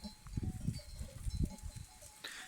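Goats in rut make soft, low grunting and snorting sounds in several short bursts, fairly close and unaccompanied by talk.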